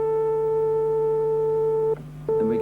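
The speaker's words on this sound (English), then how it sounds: "something which comes fairly close to representing a pure tone, a pure sine wave" A pure synthesizer sine wave tone, reduced from a sawtooth wave playing an A, holds steady for about two seconds, drops out briefly, then returns with a slight wavering pitch.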